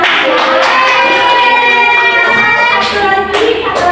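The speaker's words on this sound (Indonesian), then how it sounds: "Oke, tepuk tangan." Classroom hands clapping, a short burst of clapping from students mixed with voices talking over it, close and loud.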